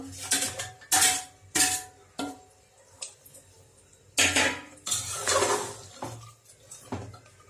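Potatoes go into a pressure cooker of Bengali mutton kosha, with several loud, close metallic clanks and knocks of the pot and utensils, irregularly spaced with quieter gaps between.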